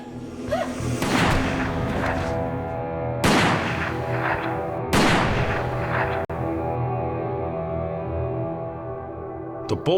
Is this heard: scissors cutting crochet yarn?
no